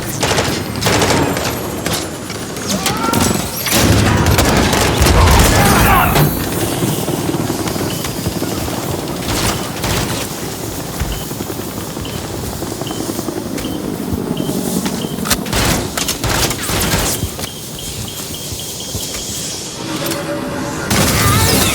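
Heavy sustained gunfire aimed at a helicopter during a Call of Duty: Modern Warfare III battle, bursts of automatic fire and booms layered over a constant loud rotor drone, with shouted voices mixed in.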